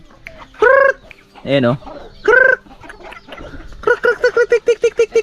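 Farm chickens cluck and squawk loudly nearby in several bursts, ending in a rapid run of rhythmic clucks, while a person briefly speaks in between.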